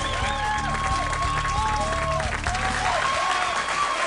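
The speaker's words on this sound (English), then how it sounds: "The crowd applauded Giuliani." An audience applauding Giuliani fills the room with sustained, dense clapping and some cheering, holding steady across the whole stretch, with crowd voices mixed in.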